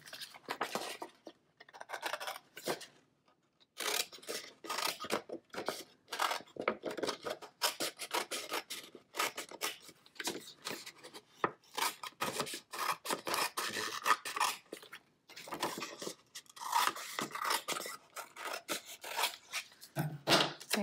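Scissors snipping through paper to cut out a handmade color viewfinder, close and dry, in uneven bursts of crisp cutting and rustling with short pauses, no talking.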